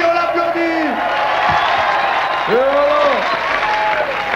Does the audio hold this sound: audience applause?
yes